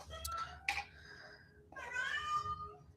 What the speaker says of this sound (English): I don't know if you guys can hear my cats